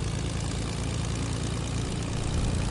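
Steady, loud drone of an airplane engine heard from inside the aircraft in a video game, a continuous low rumble with propeller-like buzz filling the whole stretch, no talking.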